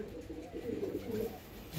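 Soft, low cooing of racing pigeons murmurs continuously, close and fairly quiet.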